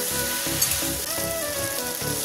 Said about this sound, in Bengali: যে ফিশগুলো ভেজে রেখেছিলাম সেগুলো আমি এখন দিয়ে ভালো করে কষিয়ে নেব